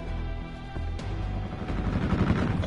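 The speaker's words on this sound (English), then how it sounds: "Just a bit of gunfire." Rapid bursts of gunfire in Call of Duty: Black Ops 4 rattle over a dense, rumbling battle mix that swells louder toward the end.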